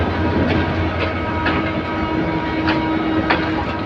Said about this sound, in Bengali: এই যে 11 সুন্দর প্রভাতী ট্রেনটি ভৈরব বাজার জংশনের 3 নম্বর প্ল্যাটফর্মে এসে প্রবেশ করেছে